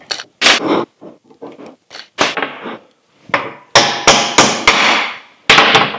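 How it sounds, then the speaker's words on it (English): A hammer drives a brass pin punch against cotter pins in a Scout clutch pressure plate clamped to a workbench, giving a series of sharp, loud, close metallic blows, some single and some in quick runs, with short pauses. "I'm just driving these pins out with a brass pin punch."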